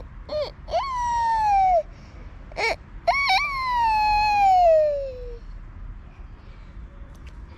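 A young girl imitates a rooster crowing with her voice, giving two long, rising-then-falling crow calls broken by short yelps, close and clear over a quiet room.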